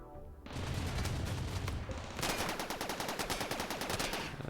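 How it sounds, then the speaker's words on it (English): Autocannon turret firing in the colony game Rimworld, loud rapid bursts of heavy automatic fire with a short pause between two long volleys. "Autocannon can hit it. It stays there. And it's trying to shoot up this part of the base."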